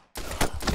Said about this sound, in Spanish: Me ha matado de dos tiros.